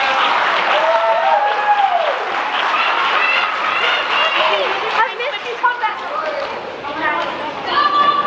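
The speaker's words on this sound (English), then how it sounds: "Let's give them another round of applause, please." An audience at a community singing night applauds in a dense, sustained wash of clapping, with voices and cheers rising through it.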